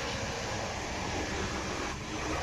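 A constant, even rumble and hiss inside a moving Portuguese intercity train carriage between Lisbon and Faro, with steady low-frequency noise and no distinct events.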